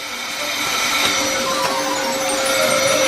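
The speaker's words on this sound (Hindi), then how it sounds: "एक नियमित हेयर ड्रायर हमारी मदद करेगा।" A regular hair dryer runs close by, giving a loud, steady whooshing blow with a faint motor whine that holds without pause for a few seconds.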